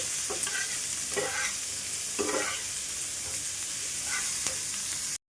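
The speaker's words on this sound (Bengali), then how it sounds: "পেঁয়াজ দুটো ভালো করে ভেজে নিতে হবে।" Onions sizzle steadily in a hot pan, with about five scraping stirs of a spatula spaced roughly a second apart, close and clear.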